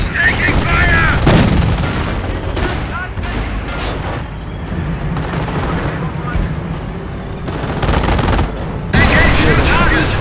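Battle in Company of Heroes Opposing Fronts during Operation Market Garden, with loud dense rifle and machine-gun fire and heavy booms that continue throughout. Voices shout over the shooting.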